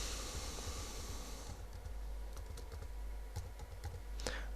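Computer keyboard typing while entering a site title for a logo design in Inkscape, a quick run of close clicking keystrokes followed by a few scattered taps and one sharper final key press, with no voices.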